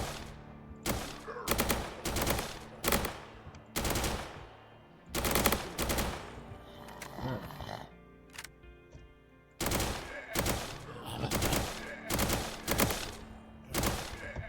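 New weapons tested in the Roblox game Reign Fall: loud, sharp bursts of automatic gunfire in repeated groups, separated by brief pauses and a few quieter mechanical clicks, with no talking over the shots.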